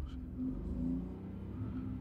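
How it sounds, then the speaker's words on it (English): A 2016 Ford Focus EcoBoost engine with a misfire under load revs softly, its pitch rising and falling a few times, fairly quiet and with no talking. "she's revving a bit more now."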